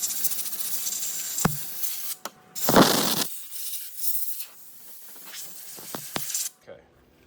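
Compressed air blasts rust off the steering knuckle of a Ford Super Duty during a wheel bearing job, a loud hissing spray with short pauses and clicks, under talk.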